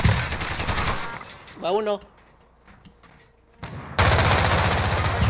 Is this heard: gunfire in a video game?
yes